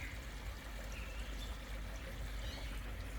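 Water from a backyard pond's shower feature runs steadily, a soft continuous splashing and trickling at low level, close by and alone.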